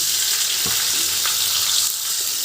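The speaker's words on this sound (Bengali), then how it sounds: "আপনি কাঁচাও দিতে পারেন, কিন্তু আমি ভেজে নিচ্ছি। আমার ভাজা ছাড়া ভাল লাগে না মাছ।" Fish frying in hot mustard oil gives a loud, steady, close sizzle and crackle that holds evenly throughout, with no voices.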